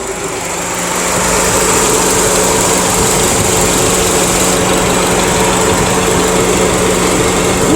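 Loud, steady engine idle of a 2009 Acura RDX SH-AWD with a new Magnaflow downpipe, a low rumble and constant hum, close by, rising slightly at the start then holding even.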